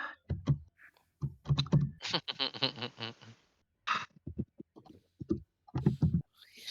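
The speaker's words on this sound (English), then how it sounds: "He is typing it out." Rapid bursts of computer keyboard typing during a tabletop role-playing session, close and clicky, alternating with people talking.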